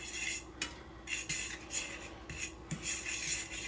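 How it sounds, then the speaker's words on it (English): A fork mixes flour into butter in a bowl while making baked mac and cheese, giving repeated scraping, rasping strokes with light clinks against the dish, steady and close with no talking. "We're just gonna add some flour in here. Kind of mix this around with our fork."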